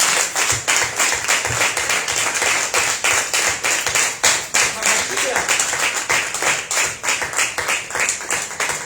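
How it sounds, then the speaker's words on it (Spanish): A church congregation claps loudly and steadily in rhythmic unison for Yeshua, a dense, close, continuous wall of palms sustained throughout. "Dele fuertes esas palmas a Yeshua."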